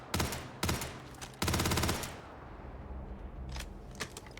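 SMG fire in the video game Starfield: two short loud bursts and then a longer rapid automatic burst, close and dominant, followed by a quieter tail with one fainter shot.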